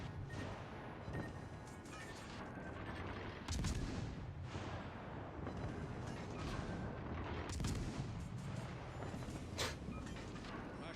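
Heavy naval guns fire in World of Warships Legends, booming salvos landing every few seconds over a dense, continuous rumble of battle, with loud blasts around the 3.5 and 7.5 second marks.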